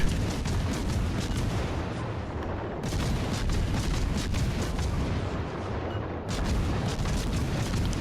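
Heavy naval gun salvos from the British cruiser Minotaur in World of Warships Legends, a continuous loud barrage of booming shots with brief gaps between volleys, with no talk over it.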